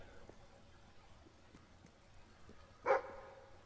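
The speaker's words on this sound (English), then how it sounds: "Well, the dog's barking" One short, fairly faint dog bark in the Fable 3 game world, rising once above a quiet background.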